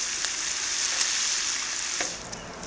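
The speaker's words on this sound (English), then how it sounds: "so my bacon. It's almost where I want it to be. It's looking real bubbly and crispy." Bacon frying on a large flat-top griddle, a steady dense sizzle with bright crackling pops, close and even throughout with no talking.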